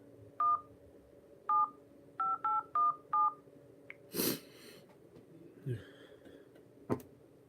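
A series of short electronic tones from an incoming phone call beeps in quick bursts, followed by a sniff, a breathy sound and a sharp click, fairly quiet.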